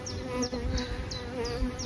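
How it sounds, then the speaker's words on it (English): Honey bees in a hive with a caged queen during a weekly swarm check on newly drawn comb, their steady close buzz humming continuously with a few individual bees rising and fading near by. "Nice little bees."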